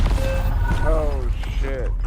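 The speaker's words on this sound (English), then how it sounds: "Changing mags." A gun magazine is swapped out during Call of Duty gameplay, with short metallic mechanical clicks and a creaking ratchet-like rattle heard close and loud over a dense low background rumble.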